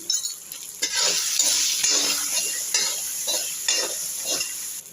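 Steady sizzling of small onions frying in hot oil with salt, with stirring scrapes and occasional soft clinks, close up and fairly loud throughout.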